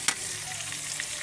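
Tomatoes, chilies and onion frying in a pan over a wood fire, giving a brief, steady, close sizzling hiss with one sharp stir-like click near the start.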